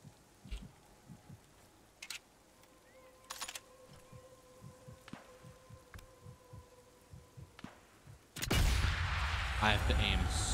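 In the Sniper Elite 5 video game, a slow rhythmic heartbeat thumps during aiming, then a sudden loud sniper rifle shot bursts out and rumbles on, with no talking over it.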